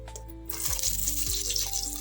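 Drumstick, cucumber, carrot and onion pieces tipped into a South Indian sambar pot with ghee, bringing a close sizzling hiss and a couple of soft thuds as the pieces land.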